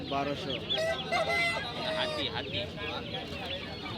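Chickens cluck and a rooster calls among ducks, geese and turkeys at the busy Tongi poultry market, the fowl sounds close and overlapping with voices and crowd chatter around them.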